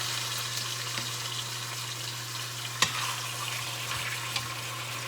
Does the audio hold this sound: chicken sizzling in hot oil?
yes